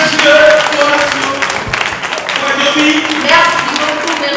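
Audience on its feet applauding at a French spelling-competition event, sustained dense clapping with small swells and fades throughout, fairly close and loud.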